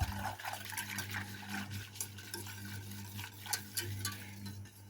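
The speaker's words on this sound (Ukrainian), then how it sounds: "Все гарно перемішую" Batter with a little added oil being stirred in a bowl, giving soft repeated scraping and clinking taps at a steady rhythm over a low hum, close and fairly quiet.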